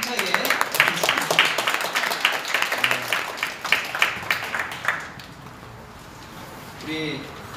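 A church congregation applauds to cheer on the worship team and staff, with fairly brisk, rhythmic clapping for about five seconds before it fades into quiet room noise and a voice briefly speaks.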